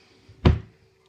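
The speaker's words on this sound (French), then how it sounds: "je pousse ma porte" A single firm thud as a cabinet door fitted with a magnetic baby-safety lock is pushed shut. It is close and brief, with a faint tap just before it.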